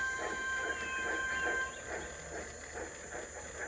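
Cartoon steam engine Thomas puffing along a railway track, soft regular chuffs repeating at a steady moderate pace, fairly quiet with a faint whistle-like tone above.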